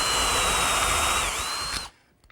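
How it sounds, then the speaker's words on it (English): A power drill whines steadily at high speed for nearly two seconds boring a through hole with a 3/8 inch counterbore in wood, dips briefly as it bites, then winds down and stops, followed by a couple of faint clicks. "I'm drilling a through hole with a 3/8 inch counterbore."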